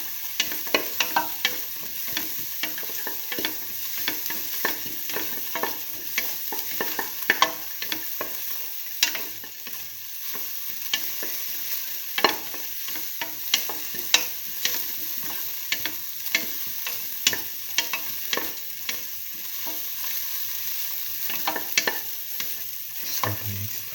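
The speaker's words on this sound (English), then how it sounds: "Thoroughly saute and mix." Split mung bean and tomato rice sautés in a pan with a dense, continuous sizzle and frequent scraping spoon strokes stirring it through, close and fairly loud, with no talking.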